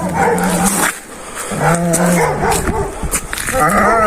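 Several dogs bark, growl and whine close by in overlapping bursts, with short pauses between outbursts.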